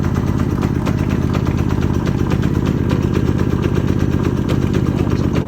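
Small engine on mobile car wash equipment running steadily just after starting, a continuous close mechanical drone with light clatter and no pauses.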